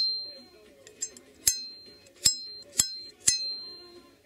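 A Russian hollow-ground straight razor blade rings with four sharp metallic strikes, each leaving a long, clear, sustained tone that slowly decays, with faint soft sounds between them.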